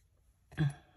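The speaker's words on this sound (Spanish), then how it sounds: "Es que en las mañanas, como hace frío, siempre me da mucha tos." A single short, throaty cough, close and brief, from a woman at home on a cold morning.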